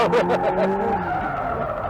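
Subaru BRZ tires squealing as the car drifts, loud and close, with a rising screech over a steady engine drone that tapers toward the end.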